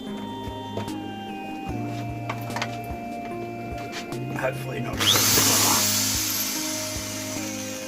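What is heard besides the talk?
drilling holes in plastic bottle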